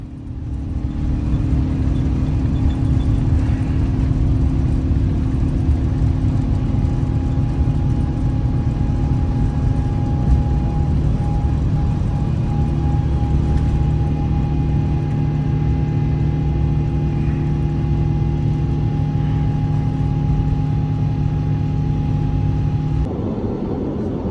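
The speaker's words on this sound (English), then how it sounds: "you gotta love those cameras on the A350 so we can relax and watch our takeoff" Cabin of a Cathay Pacific Airbus A350 during a night takeoff from Delhi, a loud continuous engine roar and rumble with a steady whine above it, holding for the whole stretch with no speech.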